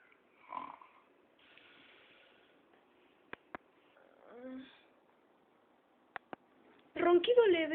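A person imitates light snoring in a quiet room: one soft, breathy snore in the middle, a few sharp clicks, then a louder, rattling voiced snore at the end.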